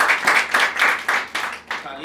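An audience at an open mic stand-up comedy show claps in a quick, even rhythm, with bright bursts roughly every quarter second.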